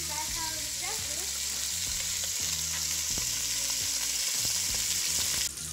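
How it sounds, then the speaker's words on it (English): Pork ribs sear in a pan for a pepián de costilla, giving a steady, loud broadband sizzle with occasional stirring knocks and scrapes, no voices. "Mateo, now that we seared it, look at the color that we got on it."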